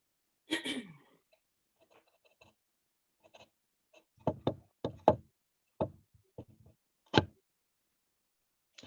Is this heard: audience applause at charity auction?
no